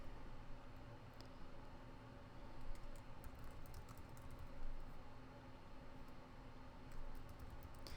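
Scattered keystrokes on a computer keyboard come in brief clusters over a steady background hiss, faint and fairly close, with no talking.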